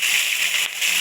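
Mustard seeds spluttering in hot oil, a loud, dense hiss of crackling with a brief dip in the middle, close by and without talk.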